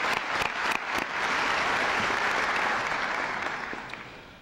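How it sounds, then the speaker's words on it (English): An audience at a school graduation ceremony claps, with a few distinct claps at the start swelling into a full, dense round of applause that gradually fades. "Please give them another round of applause."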